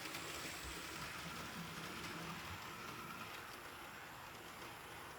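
A Hornby Tornado model locomotive runs along layout track with a steady, smooth whir and faint rail rumble, continuous and even throughout.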